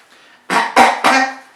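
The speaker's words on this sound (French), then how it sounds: "Excusez-moi, je tousse." A single person coughs three times in quick succession, close and loud, against a quiet background.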